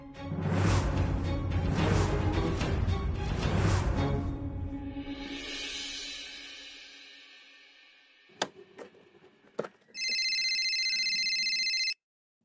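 A telephone rings near the end with a steady electronic tone lasting about two seconds, after louder music and a few sharp clicks.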